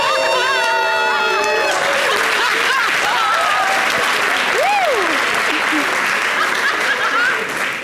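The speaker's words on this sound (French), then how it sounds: "Et ce qui est inquiétant dans l'affaire, c'est que les hommes aussi applaudissent" Loud TV studio audience applause with cheering and some laughter, a dense continuous roar, while a tone sequence plays at the start and sliding musical or vocal sounds ride over it.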